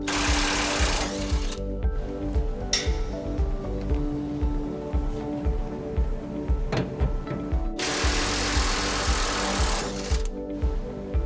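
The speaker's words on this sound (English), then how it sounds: "We got a 21mm socket on our electric impact. We'll be going and pulling these out" An electric impact wrench with a 21mm socket rattles rapidly while backing out bolts on a 2009 Chevrolet Silverado 1500 before a hitch install, a close hammering burst running several seconds with short pauses.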